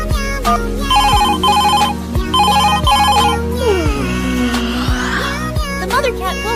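A cartoon telephone bell rings in repeated bright trilling bursts with short pauses between them, loud and close, mixed with other animated sound effects.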